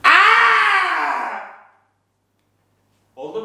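One person lets out a long, loud scream right after a countdown, held for over a second before trailing off; silence follows, then a brief voice.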